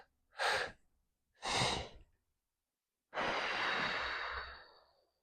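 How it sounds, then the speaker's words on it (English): Two quick, audible inhalations in a breathwork relaxation exercise, each a short breathy rush, followed after a pause by a longer, softer airy breath that fades out; close and alone, no talking. "as we breathe in, we're going to do that in 2 breaths"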